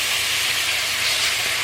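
Fresh spinach wilting in a hot pan, a loud, continuous hissing sizzle that holds steady for the whole moment without speech.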